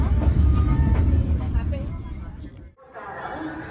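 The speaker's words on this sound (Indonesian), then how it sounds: "kereta api Sri Tanjung telah tiba dan berhenti di stasiun Wonokromo" Sri Tanjung passenger train pulling into Wonokromo station: heavy low rumble of railcars that fades and cuts out, followed by quieter platform hubbub with people talking nearby.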